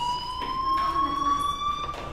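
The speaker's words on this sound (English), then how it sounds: "do you hear that fire alarm? That means you should be outside." A school fire alarm in the video game Life Is Strange rings as a loud, steady electronic tone that holds throughout, with faint voices underneath.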